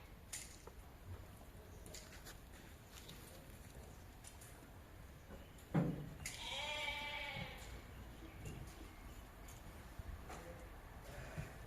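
Sheep bleat in a farm pen, one loud nearby bleat standing out midway over a quiet background, with a few fainter animal sounds and rustles around it and no speech.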